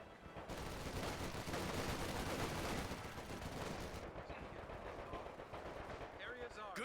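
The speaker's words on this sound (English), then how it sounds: "One of our fighting positions is sustaining fire." Sustained gunfire, with machine-gun bursts and rifle shots, rattles around a fighting position during a battle in the Ardennes in Company of Heroes, dense and continuous at moderate distance with no voices.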